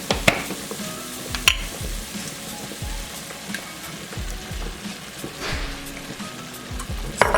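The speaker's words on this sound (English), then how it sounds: "So now I'm just gonna add my marinera sauce." Marinara sauce poured into a hot pan for lasagna, a steady close sizzle with soft crackles and a few sharper spatters and stirring knocks, no talking.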